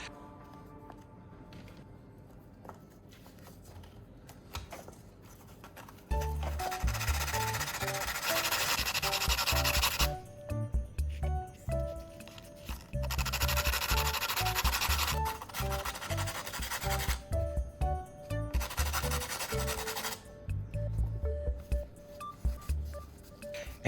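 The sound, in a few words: grinding a battery core into a fine tip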